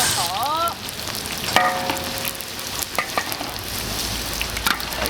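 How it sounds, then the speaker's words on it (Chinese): Ginger and garlic sizzle and crackle in hot oil in a wok as a spatula stirs and scrapes, a steady close frying hiss broken by a few scraping clinks and short squeaks. "姜蒜爆好"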